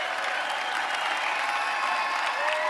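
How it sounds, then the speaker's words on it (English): Steady audience applause for panelists at a live show, a dense wash of clapping from a crowd that holds at an even level throughout, with faint voices mixed in. "let's give them another round of applause to the panelists"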